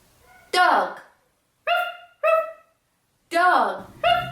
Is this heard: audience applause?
no